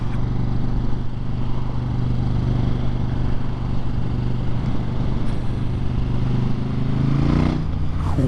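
A new motorcycle engine drones steadily and loudly at close range, rising in pitch near the end as the throttle opens, with wind and road noise throughout.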